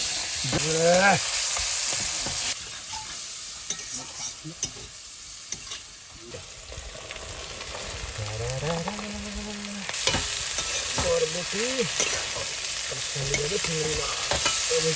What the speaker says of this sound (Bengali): ফ্রাই করে নিয়ে আসবে বরবটিটাকে